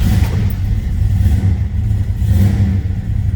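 A 1969 Plymouth Road Runner V8 running after a cold start, deep rumbling engine with uneven revving swells, loud and close, steady throughout with no talk.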